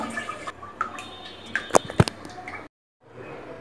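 Water splashing and dripping as a sweet pumpkin is washed by hand, nearby with a few sharper splashes midway, then a sudden silence before a soft trickle resumes.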